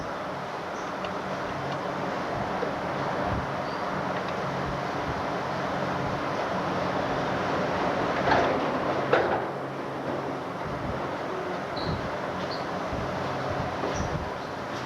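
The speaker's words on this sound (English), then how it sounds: "Winding around and above Tomorrowland is the People Mover." The Disneyland People Mover, an automated ride winding above Tomorrowland, runs with a steady low rumble and wind-like rush throughout, rising slightly midway with a few faint clicks.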